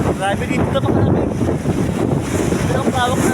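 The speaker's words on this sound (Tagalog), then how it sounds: "Ito ang tawag ng dagat." Rough sea surf breaks on the shore at sunset with steady wind buffeting the microphone, while voices murmur faintly underneath.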